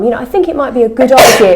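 A single loud sneeze bursts out at the end, right after a person speaks close up.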